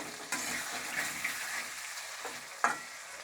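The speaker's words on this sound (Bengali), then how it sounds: "আলুগুলো এবার ভেজে নেব। আলুটা একটু নেড়ে দিলাম।" Cut potatoes for a curry fry in a pan and are stirred, giving a soft, steady sizzle broken by a few scraping stirs and one sharp utensil clink near the end.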